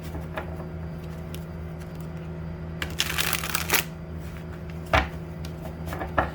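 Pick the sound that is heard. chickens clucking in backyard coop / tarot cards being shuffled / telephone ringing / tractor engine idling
tarot cards being shuffled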